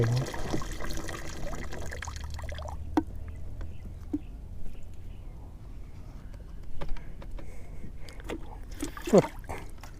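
Water drains out of a fishing pond, where a net is set for silver barb, as a steady low wash and trickle with scattered small clicks and splashes; no one speaks.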